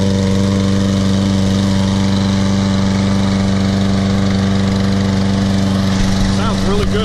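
Husqvarna 21-inch LC121P lawn mower with a Briggs & Stratton 725 EXI engine running at a steady, loud, close drone, with a brief change in pitch near the end.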